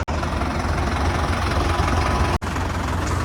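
A tractor engine idles steadily with a low, dense rumble, briefly cut off near the end before running on.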